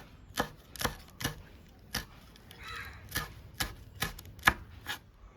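Green chillies being chopped with a knife on a board, about a dozen sharp, separate chops in an uneven rhythm, close and clear with no one talking.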